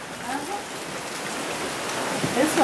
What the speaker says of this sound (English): Little rain shower.